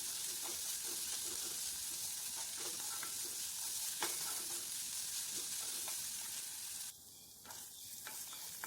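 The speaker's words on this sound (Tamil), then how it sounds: "இப்போ வெங்காயம் நல்லா வந்துட்டு கோல்டன் ப்ரௌன் கலர் ஆகிற வரைக்கும் வதக்கிக்கலாம்." Sliced onions sauté in a pan toward golden brown, giving a continuous soft sizzle with light intermittent stirring clicks and no talking, the hiss dropping away sharply near the end before resuming faintly.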